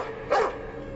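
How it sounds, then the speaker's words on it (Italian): A Belgian Malinois gives a single short, loud bark, close by and alone against a quiet background. "Pastore belga malino."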